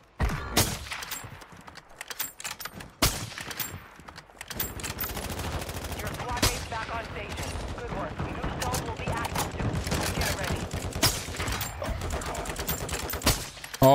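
Rapid gunfire from the Warzone video game, including SP-X sniper rifle shots, with dense overlapping bursts and sharp cracks filling most of the stretch, loud and close, with a player's voice talking over it.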